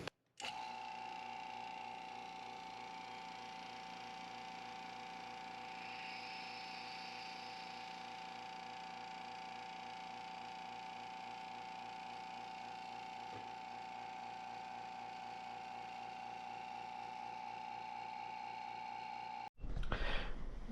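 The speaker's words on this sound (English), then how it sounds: "We're going to go ahead and turn on the pump, and then we'll close off the valves over here and draw down the vacuum." A vacuum pump draws down a resin chamber with a steady, loud mechanical drone and a fine rapid pulse, running close by without talk for about twenty seconds before cutting off.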